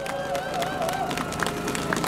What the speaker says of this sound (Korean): 변재일 의원님께 다시 한번 큰 박수 부탁드리겠습니다